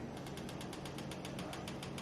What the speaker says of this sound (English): If you can hear that sound in the background, it's just my pressure cooker.